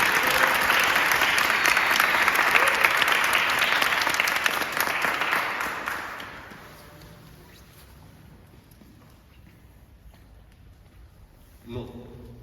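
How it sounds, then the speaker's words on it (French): Applause from a studio audience during a French television debate, loud and dense for about six seconds before fading away, then a short burst of clapping near the end. "On peut les applaudir et les encourager de la fois."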